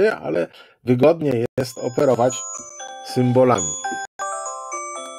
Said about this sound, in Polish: przepraszam za ten dzwonek telefonu